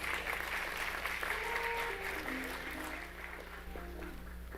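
An assembly audience applauds award winners at a Women's History Month event, a steady wash of clapping from a large crowd that stays fairly even and then thins slightly toward the end.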